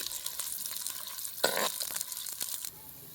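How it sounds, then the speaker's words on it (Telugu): Chopped onions and green chilies hit hot oil and fry with a steady crackling sizzle. A sharp burst of spitting and stirring comes midway, followed by a few scraping clicks before the sound drops quieter. "కట్ చేసుకున్న ఉల్లిపాయలు పచ్చిమిర్చి అయితే యాడ్ చేస్తున్నాము."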